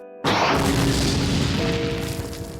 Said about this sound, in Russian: На импровизированном полигоне грянул выстрел «Фауст-патрона».